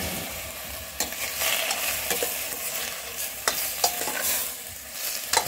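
Stir-fried gulay sizzles in a pan as pechay is added, with loud crackling and repeated scraping, clattering stirs in an irregular rhythm, close and alone with no talking.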